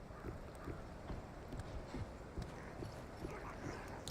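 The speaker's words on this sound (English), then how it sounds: "Unless I'm hearing your footsteps." Rapid, steady footfalls of players in a multiplayer video game, heard as a continuous patter of soft thuds close by, with no one speaking over them.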